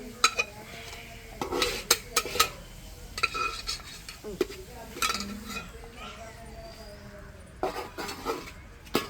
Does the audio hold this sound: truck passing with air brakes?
no